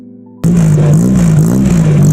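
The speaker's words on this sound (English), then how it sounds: "Does the exhaust, does it sound good?" A budget-built 90s JDM car's exhaust kicks in abruptly after a faint hum, then holds a loud, close, raspy engine drone with a slight wavering pitch as it revs.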